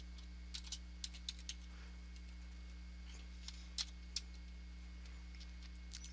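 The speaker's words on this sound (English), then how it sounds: "we're going to start typing in our code" Keys clicking on a computer keyboard as code is typed, sparse and irregular taps over a steady low electrical hum, fairly quiet and with no talking.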